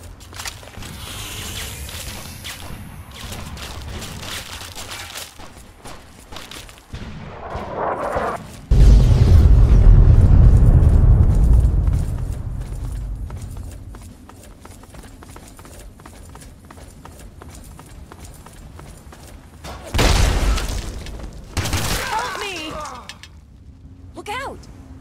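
Artillery strike explosions in Fallout 3: a heavy, rumbling blast that swells and slowly fades, followed later by a second loud impact and debris, while a voice talks intermittently.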